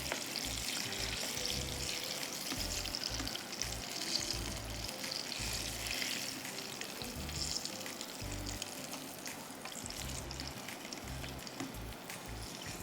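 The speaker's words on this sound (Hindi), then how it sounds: "बस ये मैं सारे फ्राई कर दूं" Apple fritters sizzle and crackle steadily in hot frying oil, a dense continuous hiss with occasional low bumps and clinks from handling, heard close and alone without talk.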